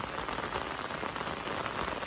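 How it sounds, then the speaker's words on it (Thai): Steady rain falls at dusk, a dense, even patter on surfaces that continues without a break, moderately quiet and with no voices. "ฝนตกมาอีกแล้ว"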